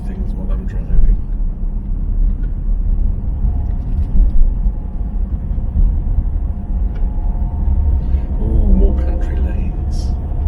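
A car driving along narrow country lanes, its engine and road rumble heavy and continuous from inside the cabin, with a little talk over the steady drone.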